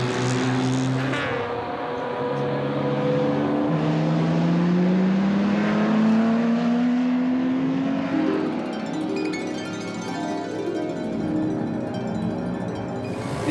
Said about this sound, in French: On voit ici la voiture d'Adrian Kraft en pleine action.